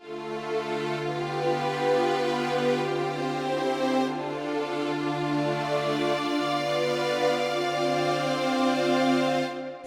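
An instrument sustains rich, held tones in D Dorian mode, a steady droning harmonic sound that carries on evenly for several seconds with no talking.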